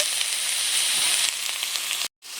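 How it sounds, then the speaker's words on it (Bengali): Cauliflower, potato and radish pieces sizzle and fry steadily in a hot pan, a dense close hiss with faint scraping of stirring, cutting off abruptly near the end. "ফুলকপি আলু মূলো একসাথে কেটে রেখেছিলাম আমি এটা দিয়ে দিচ্ছি একটু নেড়ে চেড়ে নিলাম"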